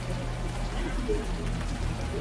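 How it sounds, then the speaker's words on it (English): Warm rain falling in the video game Unavowed, a soft, even patter with a low steady rumble beneath it, continuous and moderately quiet. "Now that it's out of the open air, the warm rain is coming down"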